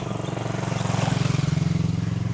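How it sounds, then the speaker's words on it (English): A motorcycle engine approaches along a road, its close, rapid putter growing louder over a couple of seconds with no talk. "There's someone coming on a motorcycle."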